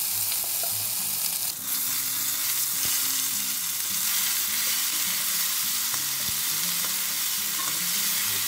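Ginger, garlic and green chili paste sizzles and fries steadily in a hot pan with whole cardamom, cinnamon and cloves, a close, continuous crackle with occasional stirring scrapes, no voices.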